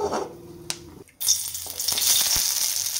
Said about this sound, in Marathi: हिरवी मिरची, लसूण आणि आलं आहे ते थोडंसं भाजून घेऊया